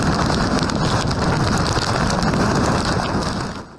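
Heavy typhoon rain pounds down steadily with gusting wind in a Hong Kong street where trees bend over, a dense, loud, unbroken roar throughout that eases slightly only at the very end.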